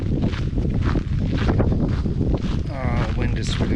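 Strong wind at Ruken buffets the microphone with a steady, rough low rumble that continues throughout, while a voice talks over it.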